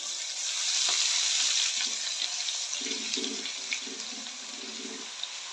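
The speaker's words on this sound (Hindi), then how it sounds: "अब हम इसमें डालूंगी लहसुन अदरक का पेस्ट। इसको फ्राई करेंगे।" Garlic ginger paste fries in hot oil in a pan, giving a steady soft sizzle and hiss with a few faint clinks and scrapes, moderately quiet and with no talking.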